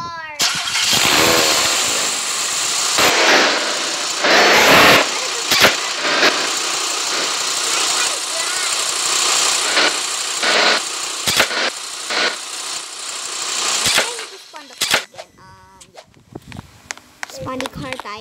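A car engine in the video game House Tycoon starts and runs with a noisy, buzzy idle, broken by sharp clicks and bursts, while a person talks over it.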